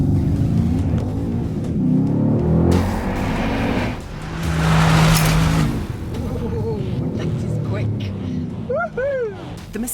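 Mercedes C63 AMG S launching down a 200-metre sprint strip, engine roaring up through revs with a rising surge and a loud burst midway, heard under a voice.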